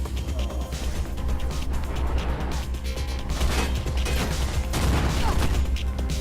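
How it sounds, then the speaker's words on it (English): A flashbang grenade goes off in the video game Mirror's Edge, a loud crashing blast with dense, noisy gunfire-like bursts and clatter that continue steadily throughout. "That's a flashbang."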